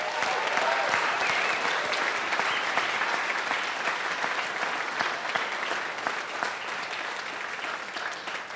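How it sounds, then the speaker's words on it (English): An audience at an athletic Hall of Fame induction ceremony gives a long, even round of applause for the inductees, dense clapping that holds steady then gently tapers off. "Let's give them one final round of applause"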